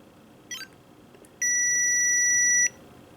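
After a brief faint chirp, a Spy x Family Tamagotchi toy gives one long, loud electronic beep lasting over a second, then goes quiet.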